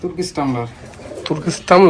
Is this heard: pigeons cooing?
yes